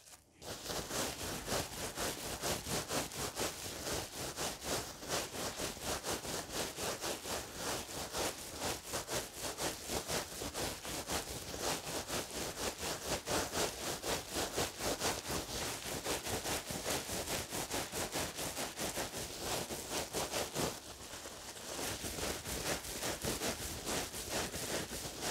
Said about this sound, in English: This is where my thumbs and the two surfaces of bubble wrap are rubbing together.